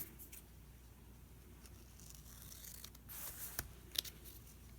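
Scissors snip through paper for a craft project, faint close cuts sparse at first and then a few sharper snips clustered near the end, with no talking.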